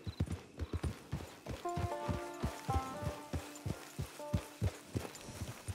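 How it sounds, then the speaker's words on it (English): Horse hooves clip-clop at a steady walking rhythm in the Western video game Red Dead Online, close and distinct, with a sustained musical tone underneath and no talking. "Hitch your horse."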